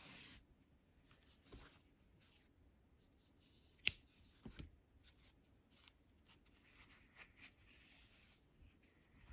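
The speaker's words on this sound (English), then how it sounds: "And now I am going to cut the yarn." Scissors snip through crochet yarn while finishing an amigurumi piece, a sharp click near the middle followed by a second softer cut, quiet and close against low room noise.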